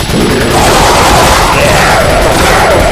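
Loud, dense gunfire from Resident Evil 4 fills the moment, a continuous roaring barrage of blasts with no pause.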